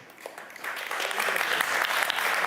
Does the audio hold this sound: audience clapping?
yes